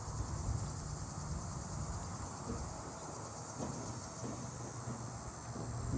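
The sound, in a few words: Linne's cicada calling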